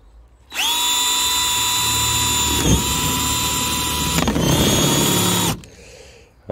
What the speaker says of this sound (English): get your drill driver